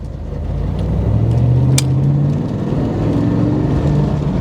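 A 1997 Chevrolet Camaro SS accelerates with a deep, loud rumble close by, its engine note rising steadily, dipping briefly, then climbing again.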